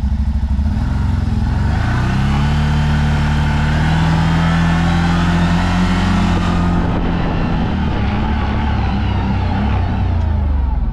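A CFMOTO UFORCE 600 side-by-side crawls in low gear through a turn, its mid-pitched engine droning steadily and close, with shifting harmonic tones and light clatter from the drivetrain.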